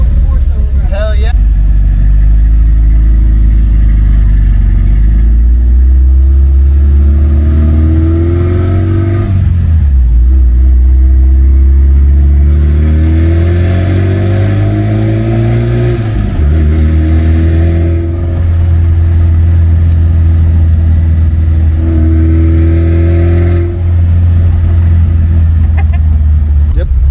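A classic Toyota pickup truck with a 22R four-cylinder engine drones and revs up and down repeatedly, a steady close rumble throughout, with people talking over it.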